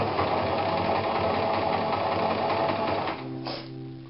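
A sewing machine runs steadily at close range as it stitches a zip into fabric, a continuous mechanical whir that slows and drops to a lower hum near the end.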